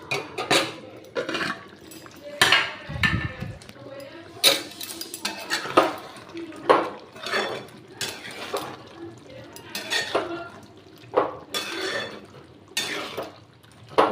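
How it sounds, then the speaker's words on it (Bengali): A lid lifted off a pot of simmering paneer curry on a low gas flame, giving a run of scattered metallic clinks and clanks, some sharp and close, with a faint liquid bubble beneath. "দেখুন ঢাকনাটা খুলছি।"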